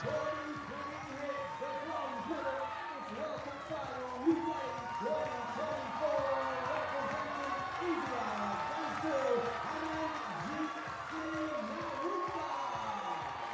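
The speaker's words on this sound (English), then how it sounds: "an even bigger round of applause and cheer from the Indian supporters" A home crowd of Indian supporters applauds and cheers steadily at a men's skeet shooting final in New Delhi, with a commentator's voice running over the noise throughout.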